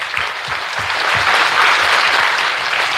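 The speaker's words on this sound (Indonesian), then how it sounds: "Berikan aplaus untuk beliau." Audience applause at a Musabaqah Qira'atil Kutub Islamic-text reading competition between dayah schools of West-South Aceh: dense, steady clapping from a large crowd that holds at full strength for the whole stretch.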